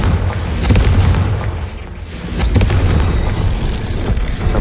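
Two powerful blasts from the Confringo spell in Hogwarts Legacy, each a loud, close, rumbling explosion with a broad crackling burst, the second following about two seconds after the first fades slightly.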